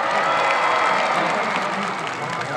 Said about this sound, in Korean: 우리 케플러분께 다시 한번 박수 부탁드립니다